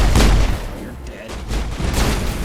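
Pistol gunfire in the video game Mass Effect on the hardest difficulty, a couple of loud booming shots in quick succession amid game noise.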